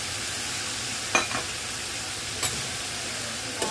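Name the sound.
lentils frying and being stirred in a pan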